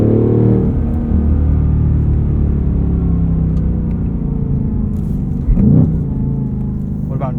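A 2024 Ford Mustang Dark Horse with a Tremec six-speed manual in sport mode drones from inside the cabin, a loud, steady low engine rumble that holds throughout with a brief swell near the end.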